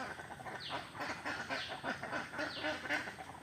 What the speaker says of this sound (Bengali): কীভাবে গোসল করে হাঁস, দেখছেন।